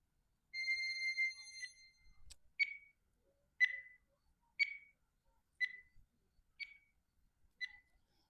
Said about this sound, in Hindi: देखिए मैं आप लोग के लिए टाइमर लगा दे रहा हूँ।